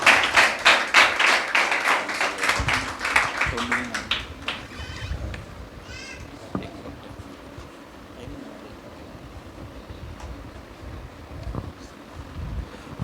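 A congregation claps hands together at a church gathering. Rhythmic, fairly loud clapping lasts about four seconds, then fades into quieter room noise with scattered faint sounds.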